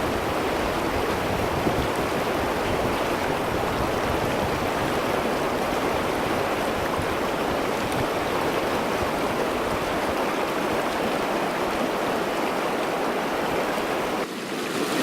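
Steady rushing stream water in the Grand Canyon, a continuous broadband wash of flowing water heard close and fairly loud for the whole stretch, with no talking.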